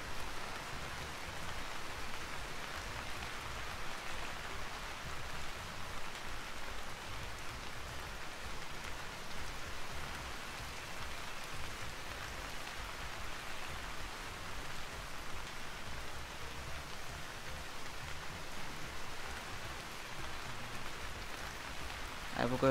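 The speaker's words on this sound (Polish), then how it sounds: "jak ten deszcz pada jakby na liście." Rain falls on leaves in the game Vintage Story, a soft, even hiss of drops that stays steady and quiet for the whole stretch with no break.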